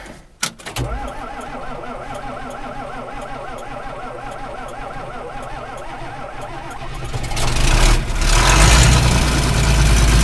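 A diesel tractor engine cranks briefly on a cold start, then settles into a steady, close idle with a rhythmic knock, growing louder and rougher toward the end.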